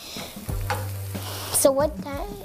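Eggs for a masala omelette frying in a pan give a close, steady sizzle, with stirring scrapes and a brief voice toward the end.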